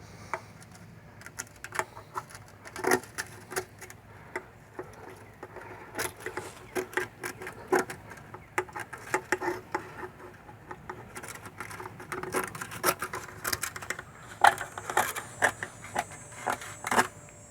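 Scissors cut metal screening material in a long run of small, crisp snips and clicks. The snips come in irregular bursts, close up, with quiet pauses between them.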